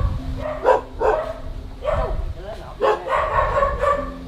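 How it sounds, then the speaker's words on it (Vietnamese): A dog barks in several sharp bursts at a rural home in Ca Mau in Vietnam's Mekong Delta, with people talking close by between and over the barks. "sủa dữ kìa"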